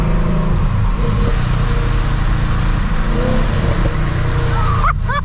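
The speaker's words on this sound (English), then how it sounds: "The pops. Some burbles." A 700whp Mustang on a morning drive, its engine droning steadily before a burst of sharp exhaust pops and crackles near the end, loud and close.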